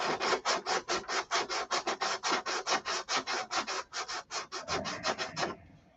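Sandpaper rasps over the wooden body of a hand-built gun in quick, even back-and-forth strokes, about two dozen close scratchy passes in a steady rhythm that stop abruptly near the end.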